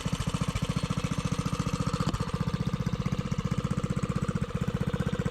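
A small Briggs engine on a homemade vehicle runs steadily nearby, a fast even chugging pulse with a rough, knocking edge throughout, no talk over it.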